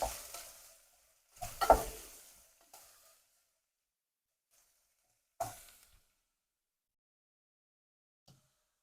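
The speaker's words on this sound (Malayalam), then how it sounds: "നമുക്കിതൊന്ന് ഇളക്കി കൊടുക്കാം കാരണം ഇതൊന്ന് വഴണ്ട് വരാൻ വേണ്ടിയാണ്" Onions sauté in a pan for Kerala-style chana masala (kadala curry), with two short bursts of stirring and sizzling a few seconds apart and near-quiet between them.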